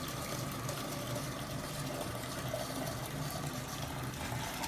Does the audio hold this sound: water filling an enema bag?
yes